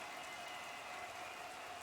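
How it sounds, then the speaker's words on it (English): Rain in the Golden Lap racing game, set in a 1972 season, patters as a soft, steady hiss, faint and uniform with no voices over it. "It didn't stop raining"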